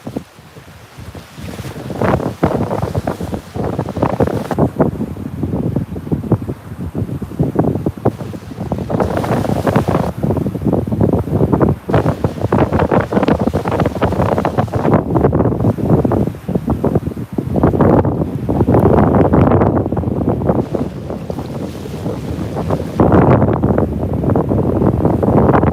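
Strong wind buffets the microphone while waves crash around a boat during a fishing trip in a wind storm, a loud, continuous roaring wash with repeated surges and no talking.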